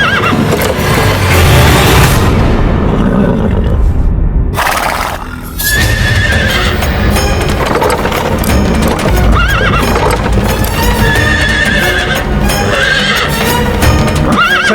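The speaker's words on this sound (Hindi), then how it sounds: "घोड़ा आगे ही नहीं बढ़ रहा है।" A chariot horse that refuses to move forward neighs loudly and stamps its hooves in a Hindi mythological drama, with dense, continuous clip-clop under a busy soundtrack.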